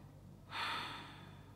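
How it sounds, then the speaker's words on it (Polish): A single deep inhale during a seated yoga twist in a vinyasa hip-opening session, a soft breathy rush that swells and then slowly fades, close and alone with no talk. "Głęboki oddech, prawa ręka nas wspiera z tyłu i skręcamy ciało"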